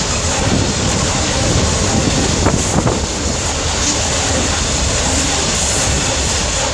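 A class 66 locomotive, 66784, passes a level crossing at Lissingley: a loud, continuous rumble and rush of wagons sweeps by close up, mixed with heavy wind buffeting on the microphone, steady throughout with no talk.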